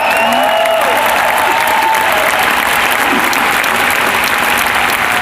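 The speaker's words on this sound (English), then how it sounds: "Let's clap it up for the production." A live audience claps for a production, the applause steady and full throughout, dense and loud with no pauses, as if from a sizable crowd in a room.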